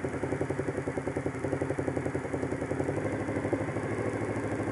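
Motorcycle engine running with the choke pulled, a steady close mid-pitched chugging with a fast irregular pulse that holds fairly even throughout, no voices over it.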